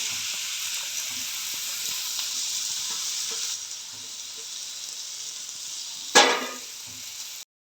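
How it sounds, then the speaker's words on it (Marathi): Finely chopped spring onions hit hot tempering oil in a pan, giving a steady loud hiss that eases midway, followed by a brief scrape or clatter near the end. "पातीचा कांदा जो आपण बारीक चिरून घेतला आहे तो मी याच्यामध्ये घालते आहे"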